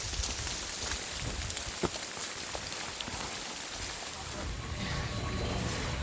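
Light drizzle falls on the Appalachian Trail in North Carolina as a steady, close hiss of rain on surfaces that stays even for several seconds, with wind in the background.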